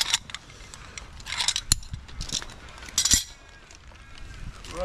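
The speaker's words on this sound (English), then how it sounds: "Put our pulley on here." A metal pulley is clipped onto a climbing rope for a 3:1 haul system, giving a few sharp metallic clicks and ratcheting rattles close to the microphone, interspersed with soft rope handling sounds.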